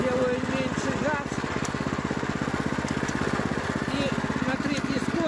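A walk-behind tractor engine chugs in third gear with the throttle eased back, working a vegetable garden; a steady, rapid single-cylinder putter runs close and loud throughout, with no talking.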